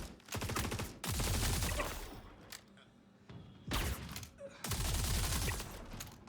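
Bursts of rapid rifle fire from a Hurston rifle in the sci-fi shooter Star Citizen, three loud automatic volleys separated by short quieter gaps, close and punchy.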